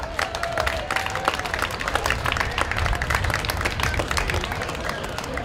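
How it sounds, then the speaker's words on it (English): A crowd claps and cheers for runners after an evening 5K fun run, steady dense applause that carries on throughout with a few whoops, moderately close. "Let's give all the runners a round of applause."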